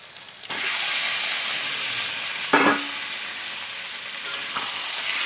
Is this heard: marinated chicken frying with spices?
yes